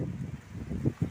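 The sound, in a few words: strong wind blowing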